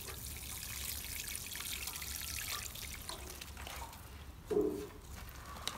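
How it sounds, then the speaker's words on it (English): Water trickling gently onto the soil of a potted plant, a faint steady pour with a brief louder splash near the end. "we're going to water that down."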